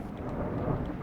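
Thunder rolls outside, a brief, dull and steady rumble heard from indoors at moderate loudness with no speech over it.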